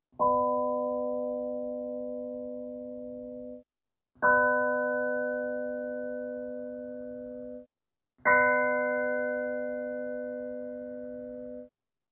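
A synthesized bell is built up from harmonic partials and sounds three times. Each strike rings clearly and slowly fades, and each strike adds more upper partials than the one before. The rings are spaced about four seconds apart and there is silence between them.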